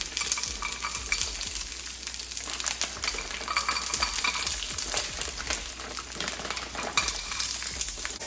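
Beyond steak tips fry in oil in a pan, a dense, even crackling sizzle with occasional spits and light metallic clinks of utensils, close and steady throughout without talking.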